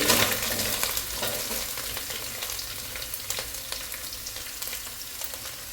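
Chopped green chillies and onions frying in a pan for paneer bhurji, a loud continuous sizzle with scattered crackles and stirring clicks throughout, no voices.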